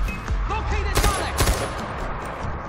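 Bursts of gunfire in the video game Far Cry 4 ring out, a couple of sharp shot volleys near the middle, with game sounds and a voice around them.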